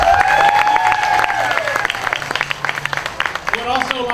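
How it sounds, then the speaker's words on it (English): Applause and scattered cheering from a crowd at a high school fall sports introduction, with voices calling out over the clapping, which grows in sharp individual claps toward the end. "So let's give everybody a round of applause."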